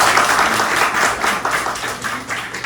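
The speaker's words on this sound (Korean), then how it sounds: "다 같이 한번 박수 한번 드리겠습니다" An audience at an alumni gathering gives a round of applause, steady dense clapping at fairly loud level throughout, without voices.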